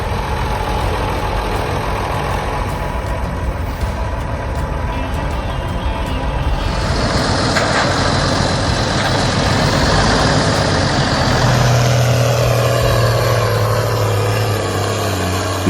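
A Ford 9000 agricultural tractor from the early 1970s idles with a steady, close diesel rumble, and a brief whine joins the drone partway through.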